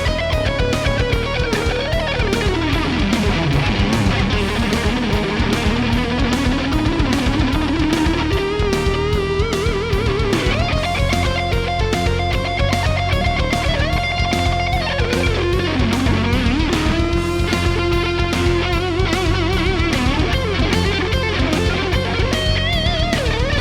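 Distorted electric guitar, a YJM Stratocaster run through an Axe-FX III, playing fast neoclassical runs and sustained bends loudly and continuously with no voices.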